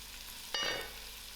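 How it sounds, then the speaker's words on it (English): Masala frying in a pan on low heat, a soft steady sizzle with one brief brighter burst of stirring, faint and close, no talk. "And on my low heat, I'll allow the masala to cook."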